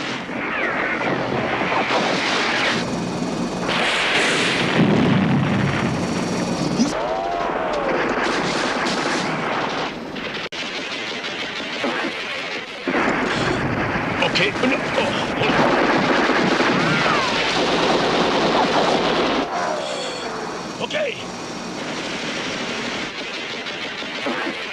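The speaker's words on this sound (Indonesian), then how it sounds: "mereka berhasil menembak jatuh helikopter tersebut" Gunfire and heavy engine or rotor noise fill a staged armed chase between soldiers in armoured cars and a helicopter, with dense, continuous loud bursts and rumble throughout.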